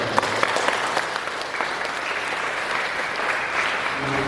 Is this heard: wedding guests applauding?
yes